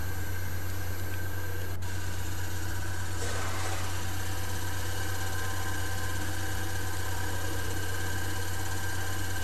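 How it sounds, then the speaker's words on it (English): A solar-powered DC shunt motor runs at around 1400 RPM, giving a constant electric hum with a strong low tone and a steady whine, unchanging and close, with a brief click near the start. "The DC shunt motor is now running at a speed of around 1400 RPM."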